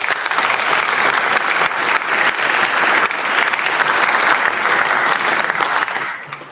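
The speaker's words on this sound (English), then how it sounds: "So just a real quick round of applause." Audience at a high school season banquet and awards ceremony applauds in a steady, loud burst of clapping for several seconds that fades out at the end.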